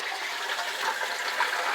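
Water rushes into a toilet cistern through a leaking ball cock after the stopcock is turned on, a steady, close hissing gush of filling liquid.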